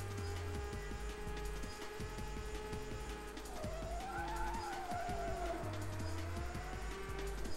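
A race car in Rage Racer drifting through a corner, its engine droning steadily while a wavering tire squeal rises and slides for a couple of seconds over the motor, no talk.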